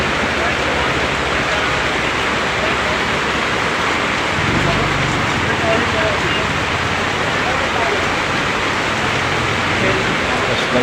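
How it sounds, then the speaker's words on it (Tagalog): Heavy rain pours steadily onto a parking-area shelter during a storm, a loud, dense, unbroken hiss filling the whole stretch, with voices talking faintly underneath. "Yun ang lakas ng ulan mga idol."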